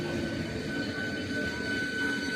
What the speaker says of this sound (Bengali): দেখুন ট্রেনটি ঢুকছে, একদম কাছাকাছি দাঁড়াবে যেখানে দাঁড়াবার।